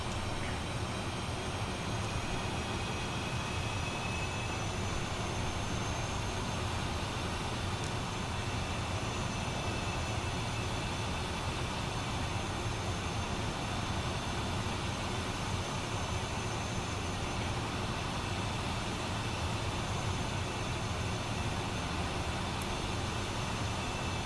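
Steady, continuous jet engine whine and rumble from a Boeing-SAAB T-7A Red Hawk trainer taxiing in Microsoft Flight Simulator 2024, even and unbroken throughout with no voices.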